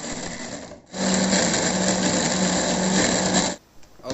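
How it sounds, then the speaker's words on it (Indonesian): A blender grinds garlic, shallots, chilies and tomato into a paste, a loud continuous whirring burst lasting a few seconds that starts abruptly and cuts off, followed by a couple of brief pulses. "Oke, ini dia bumbu halus sudah selesai kita blender."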